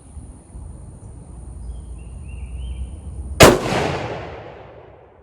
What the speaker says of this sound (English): Right now I'm only shooting at 25 yards to get velocities